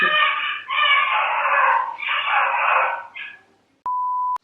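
A dog howls inside a building in several long wavering cries, fairly loud and close, followed by a short electronic beep.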